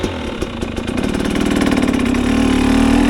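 A 2022 Husqvarna TX 300 two-stroke dirt bike idles loud and close while its oil warms, the steady rapid putter growing slightly stronger and fuller, with no talking.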